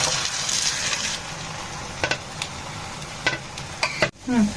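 Continuous frying sizzle of potato and egg in a frying pan with occasional scraping and tapping of a utensil, ending in a sharp clatter.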